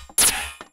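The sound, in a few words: metallic hit synthesized in Serum with plate reverb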